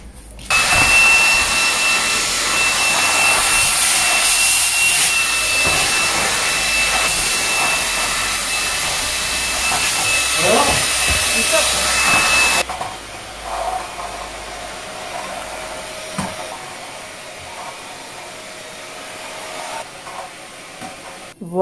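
Cordless vacuum cleaner in max mode, a loud steady high-pitched whine with broadband suction roar that stops abruptly partway through, leaving quieter rustling and handling noise.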